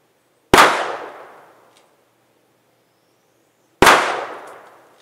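Two single-action shots from a Smith & Wesson Model 64 .38 Special revolver crack sharply, a few seconds apart, each loud report trailing off in a short echo.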